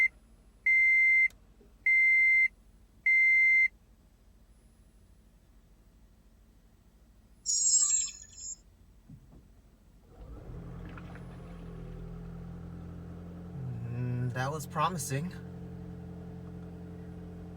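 Three short electronic beeps, then a pause, and the engine of a 2012 Toyota Prius starts up after a coolant leak was patched with K-Seal. It settles into a steady low idle rumble. A person speaks briefly near the end.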